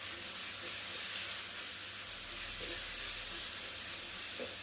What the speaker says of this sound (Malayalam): കുറച്ച് വറുത്ത് അങ്ങോട്ടും ഇങ്ങോട്ടും നീക്കി വെച്ച ശേഷം നടുക്ക് കുറച്ച് വെളുത്തുള്ളി ഇട്ടിട്ട്